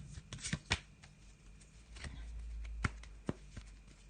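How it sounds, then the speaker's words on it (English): A Bohemian Gothic tarot card deck is shuffled by hand, giving a few sharp riffles and soft papery slaps in uneven bursts, close and fairly quiet, with no voices. "That's had a good old shuffle of those."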